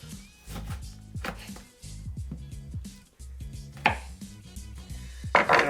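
A lemon being cut into a half slice to garnish a New York Sour cocktail, with a series of close knife chops and taps on a board and a few clinks of kitchenware.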